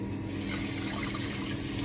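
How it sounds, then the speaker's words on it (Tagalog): Tap water runs steadily into a kitchen sink during hand dishwashing, a continuous close splashing rush with no talk over it. "habang naghihintay tayo nito ay maghuhugas muna ako ng aking mga hugasin"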